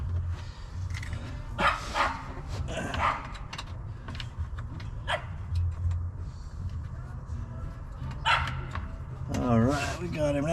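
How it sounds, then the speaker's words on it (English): Dogs bark in short excited bursts across a noisy outdoor scene, with engine-like rumble underneath and some speech-like sounds mixed in. "we're going to let the dogs run a little bit"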